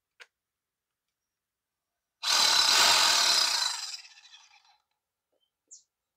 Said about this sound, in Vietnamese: Nhét mũi khoan là nó khoan.